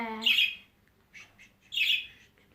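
Inside a Roblox Murder Mystery game, a pet bird gives two sharp, loud squawks about a second and a half apart, with a few softer chirps between them and no talking.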